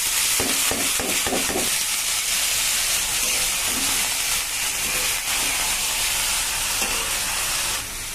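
Potatoes and yardlong beans hit hot oil with chopped onion, sizzling loudly and continuously up close, with a few clattering stirs near the start.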